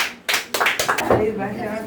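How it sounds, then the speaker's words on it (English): A small audience claps for a student speaker, a handful of distinct, close hand claps in an uneven rhythm, with voices talking over them. "Please clap for him."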